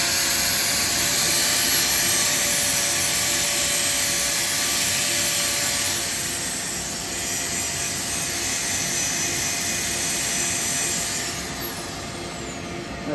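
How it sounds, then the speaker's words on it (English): A hard wood bowl is sanded on a spinning lathe, giving a steady broadband rushing hiss with an underlying motor whine that holds for the whole stretch and eases slightly near the end. "I'm going to do a quick sand on this. I cannot believe how hard this wood is"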